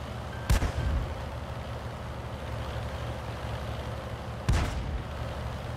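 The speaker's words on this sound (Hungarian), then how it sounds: "Onnan durrant el az arti." Two loud, sharp artillery shots boom out in World of Tanks, the first at the start and the second near the end, each with a brief rumbling tail over a steady low tank-engine drone. Both are fairly close and nobody speaks.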